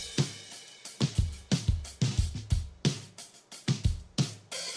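Recorded acoustic drums layered with electronic drums in a K-pop cover song hit heavy kicks and cracking snares in a loud, syncopated groove with ringing cymbal wash between the hits.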